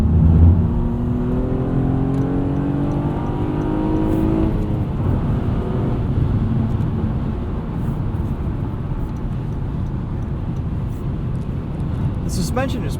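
A 2016 Honda Accord V6 coupe with a six-speed manual pulls forward on a chilly day, its engine note rising steadily in the first seconds and then settling into a continuous cabin drone and road rumble beneath someone talking throughout.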